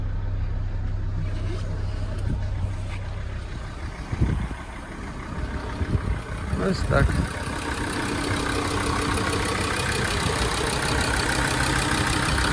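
A Mercedes Sprinter W906 with the 2.7 OM647 diesel idles steadily close to the microphone, a low even rumble running throughout, while someone briefly speaks over it partway through.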